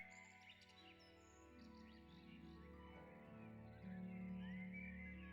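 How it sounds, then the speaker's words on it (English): Several wild birds sing and chirp in a beaver wetland habitat, overlapping melodic calls and trills of varied pitch running steadily throughout over a soft background, with no voices. "Singing of various birds can be heard."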